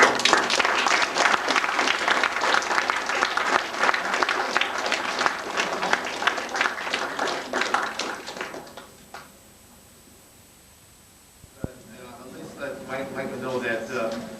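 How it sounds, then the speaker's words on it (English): A crowd applauds Dan at the end of a wrestling press conference, loud sustained clapping for about eight seconds that dies away into quiet, then a sharp knock and talking resume. "just give a round of applause to Dan"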